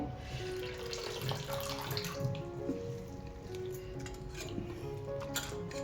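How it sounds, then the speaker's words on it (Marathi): Grated potato being rinsed in clean water, with a steady run of water splashing and sloshing in a sink or bowl throughout, close and continuous with faint clinks, no talking. "जोपर्यंत आपल्याला पाणी स्वच्छ पांढरं एकदम दिसत नाही तोपर्यंत बटाटा आपण चांगला स्वच्छ धुवून घ्यायचा आहे"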